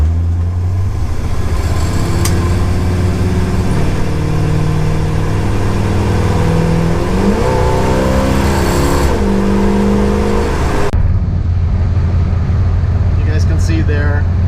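Steady engine drone and road rumble from inside a 1956 Chevrolet cruising on a freeway, with the engine note rising and shifting as it cruises along at speed.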